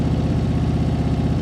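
A motorcycle engine idles steadily at close range as the bike rolls slowly on the clutch near the friction zone, giving a continuous low, even rumble.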